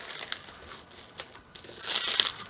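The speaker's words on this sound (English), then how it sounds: "let's unwrap this" Crinkly plastic packaging being unwrapped before tattooing a silicone arm, a close run of crackling crinkles that builds louder and denser toward the end, with no voices.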